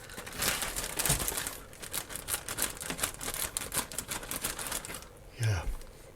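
Scissors cut open the plastic bag of a model excavator kit, a rapid run of crisp snips and crinkling plastic close by, ending with a short rustle.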